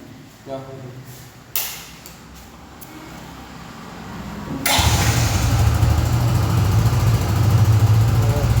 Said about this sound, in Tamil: பைக் ஒன் பண்ணி பார்ப்போம்ண்ணா